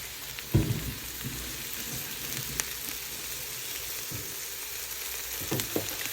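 Shrimp and vegetables frying in a pan, a constant hissing sizzle like light rain, with a few knocks and clatters of a utensil against the pan, close by.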